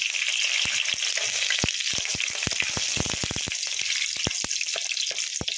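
An allspice leaf hisses in hot oil while a vegetable stew is cooked, a continuous close sizzle broken by sharp crackles and pops, with no talking.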